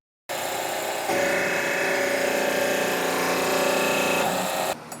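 A car wash prep gun pump station starts up abruptly and runs steadily, a loud close mechanical whine and hum that rises slightly after a second, then cuts off near the end.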